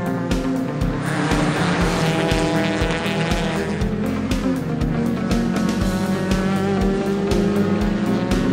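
A 2016 Mazda MX-5 Miata Global Cup race car drives past at Mazda Raceway Laguna Seca, its engine revving loud and steady through repeated gear shifts, rising and falling as it passes close by.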